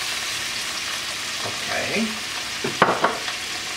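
Lamb shank sizzles while frying in oil, giving a steady close crackle and hiss, with a few utensil clinks and stirring sounds toward the end and a single brief spoken word.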